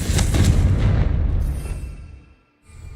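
A Confringo spell blast in Hogwarts Legacy goes off as a loud, deep fiery boom that rumbles and fades over about two seconds before a brief silence.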